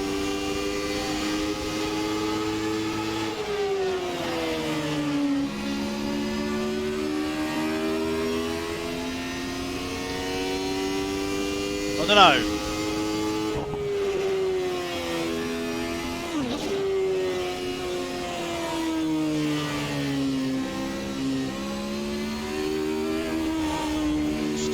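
A 1991 Formula 1 car engine in Assetto Corsa revs steadily with rising and falling pitch through gear changes, a sustained loud drone with brief shifts and one sharp spike midway; a voice mutters briefly.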